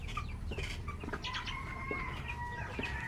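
Chicks peeping and hens clucking in a brooding and breeding setup, several birds close by with overlapping thin chirps and low clucks over a constant background hum, no talking.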